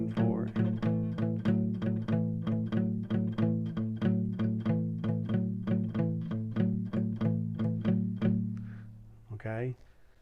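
An electric guitar plays a two-finger blues riff, steady repeated plucked notes in an even rhythm over several bars, close and clear, ending with a brief scrape.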